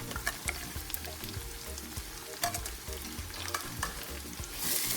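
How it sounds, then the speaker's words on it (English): Tomatoes fry in a pan for yam porridge with a steady, quiet sizzle, broken by light scraping stirs at close range. "let it fry for a little bit, let the taste of the rawness of the tomatoes get off before you put other things"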